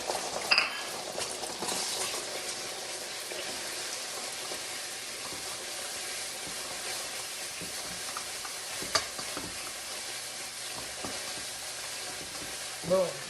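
Eggs fry fast in a hot wok with a steady sizzle and scraping stirs throughout, plus a few sharp clinks of the utensil against the pan.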